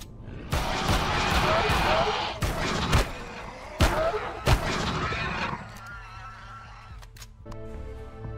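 Sci-fi survival game gunfire from Empyrion Galactic Survival, a run of loud rapid shots broken by a few sharp single blasts, then quieter mechanical reload clicks and tones, with someone talking over it.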